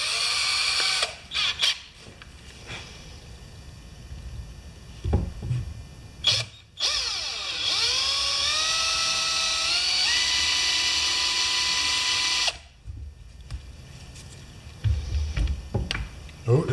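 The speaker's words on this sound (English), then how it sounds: "And now we drill in the center of that." A drill bit bores into the center of a part for a homemade fishing-rod carry case, with a whining drill that rises in pitch and runs steadily for several seconds, framed by short bursts of handling noise and someone talking.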